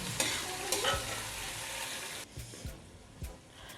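Julienne-cut chicken, about 300 grams, sizzles and fries in a hot pan, with steady crackle, a few scraping stirs of a utensil and a brief damping of the sizzle midway.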